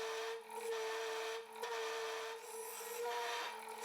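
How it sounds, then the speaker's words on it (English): A carbide scraper cuts end grain on a wooden bowl spinning on a lathe, giving a steady rasping scrape with a humming tone that briefly eases off several times as the tool moves, close and clear. "done with my Easy Wood carbide scraper"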